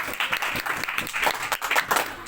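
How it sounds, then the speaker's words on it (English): Classroom of students breaking into steady applause, a dense patter of many hands clapping together at moderate distance for a couple of seconds. "Clap for him"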